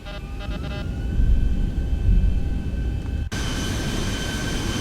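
Airliner engines spool up for takeoff in the X-Plane 12 flight simulator, a loud steady roar with tonal whine that swells, briefly dips, then holds at a higher sustained pitch.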